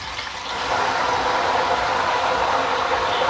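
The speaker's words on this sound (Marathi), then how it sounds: "मिठाचं पाणी घातलं ना तर तेलाचे शिंतोडे ना जोरात उडतात" Salt water splashed into hot oil where potato wafers are frying, giving a loud, steady broadband sizzle and crackle that swells after a brief quieter start and holds without a break.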